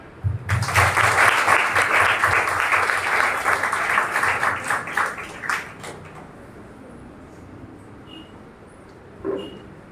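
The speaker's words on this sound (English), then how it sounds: "I clap for them" Applause for parents at a student speaking event swells quickly and stays dense for several seconds, thins into scattered claps, then stops, leaving quiet room tone with a faint thump near the end.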